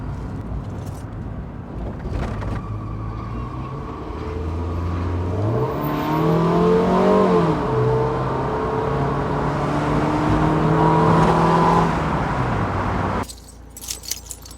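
A Mazda MX5 Miata drives along with an automatic gearbox, its engine note climbing and dropping through several gear changes at steady close range, then cutting away abruptly near the end.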